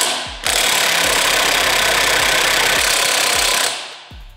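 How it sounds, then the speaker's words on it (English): A power tool whirs loudly and steadily for about three seconds while working a stubborn bolt on a VW Passat R36 drivetrain near the differential, amid repeated mechanical clunks and knocks before and after. "as I try to get this bolt off"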